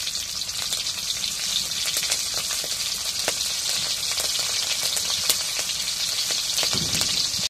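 Chopped green chilies fry in hot oil, giving a loud, continuous crackling sizzle with sharp pops scattered throughout, close up and with no voices.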